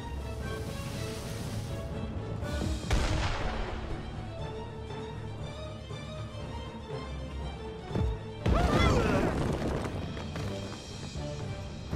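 Two heavy booming cannon blasts in the video game Rock of Ages 2 ring out several seconds apart, each followed by a rumbling decay, over background game noise.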